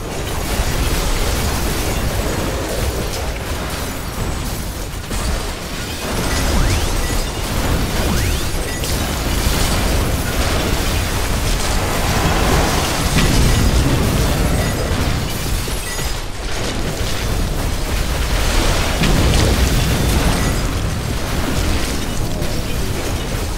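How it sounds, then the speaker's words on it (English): Base buildings blow up under attack in the video game The Riftbreaker: a continuous barrage of loud, overlapping booms, bursts and crackling debris, with heavy low rumble and no quiet gaps. "One of our buildings was being destroyed."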